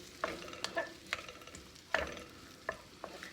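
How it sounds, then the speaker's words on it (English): Ground turkey and onion sautéing in a pan, stirred with a spoon or spatula: a quiet, steady sizzle broken by several sharp scraping clicks from the utensil, close and alone with no talking. "Just kind of saute this around."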